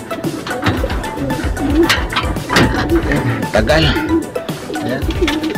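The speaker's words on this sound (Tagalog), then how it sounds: "yung mga kalapati natin" Pigeons coo softly in low, repeated murmurs, overlapping with a person speaking nearby.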